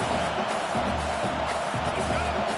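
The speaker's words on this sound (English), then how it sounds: "This crowd busting the decibel meter and trying to will a fourth down stop" A college football stadium crowd roars during a fourth-down defensive stand, a dense, steady wall of cheering and shouting that sustains at full volume throughout.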